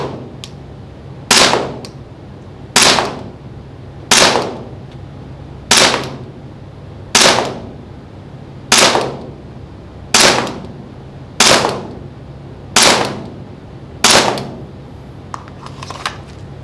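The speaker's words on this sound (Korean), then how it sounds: "제가 들고 일단 먼저 10발을 쏘고 타켓을 한번 확인을 해보도록 할게요" A Maxim-9 toy gun fires ten sharp, snapping shots at a target. The shots come evenly, about one every second and a half, each loud and close over a faint background hum.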